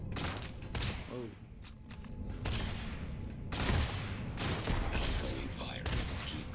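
Spaceship weapons firing in Starfield, a dense barrage of loud, rapid bursts and blasts in clustered volleys across the whole stretch, with a voice briefly audible underneath.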